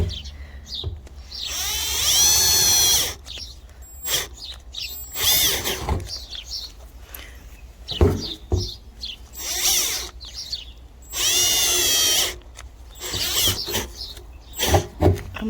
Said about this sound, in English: I'm not sure what the problem is with this drill,